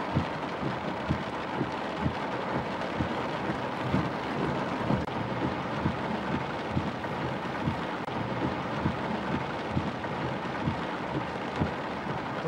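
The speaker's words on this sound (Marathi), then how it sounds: "रायगडमध्ये जोरदार पाऊस बरसताना पाहायला मिळतोय" Heavy monsoon rain pours steadily in Raigad, a dense, constant wash with rumbling low thunder-like bursts beneath it throughout, no voices.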